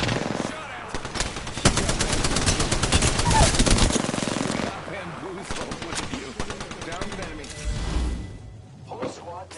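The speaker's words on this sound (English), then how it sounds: "I am taking fire, friends." Gunfire in the video game Apex Legends, a rapid, loud automatic burst hammering for several seconds, then scattered shots and thuds as the fight tails off, with a player talking over it.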